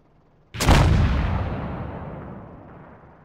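A single heavy tank cannon shot in a GDI tank training game, one sharp booming blast with a long rumbling decay fading over a few seconds.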